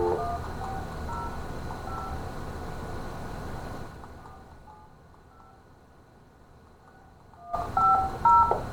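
Keypad dialing tones on a house phone: a quick run of short touch-tone beeps, a quieter stretch with a few faint tones, then a louder burst of beeps at the end, over a steady low hum.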